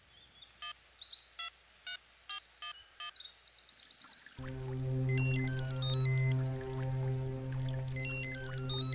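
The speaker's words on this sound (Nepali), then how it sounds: "राधा छोरी, फेरि तिम्रो बाउको फोन आयो।" A telephone rings with an incoming call: a chirpy electronic ringtone pulses in quick repeated bursts for about four seconds, then gives way to a louder sustained melodic tone.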